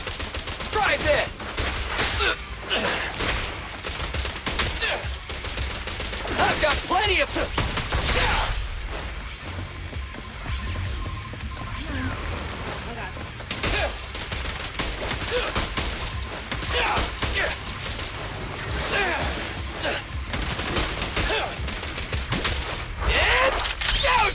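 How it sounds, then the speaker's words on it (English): Rapid bursts of gunfire in the video game Zenless Zone Zero crackle in clusters over a busy, noisy background, with scattered single shots between the volleys. "Gunshots."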